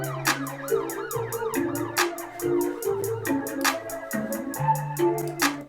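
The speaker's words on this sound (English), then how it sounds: "keep the siren in there." A looping emergency siren sample wails in a produced beat, its rising and falling tones repeating over punchy bass notes and sharp percussive hits in a steady rhythm.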